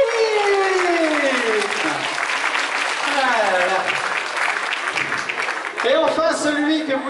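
Audience applause for a child named Maxime at a school event, sustained crowd clapping under excited, loud voices and cheers that carry on over the top.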